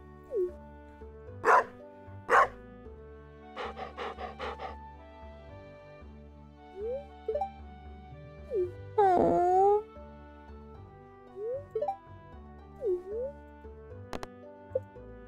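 Cartoonish dog barks and yips from the farming video game Stardew Valley, several short clipped barks in quick pairs and bursts, heard alone over soft looping background music.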